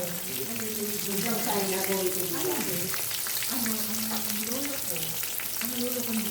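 Tawilis, a small freshwater fish, frying in a pan: a steady close-up sizzle and crackle of hot oil runs throughout, with voices talking over it.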